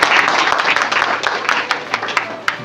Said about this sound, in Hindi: इसके लिए एक जोरदार ताली हो जाए।